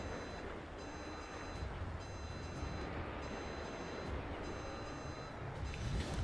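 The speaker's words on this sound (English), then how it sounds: "The depth alarm there is going ballistic, pinging away." A submarine depth alarm in World of Warships pings repeatedly in short, evenly spaced bursts of high beeps over a dense rumble of engine and water noise; no voices.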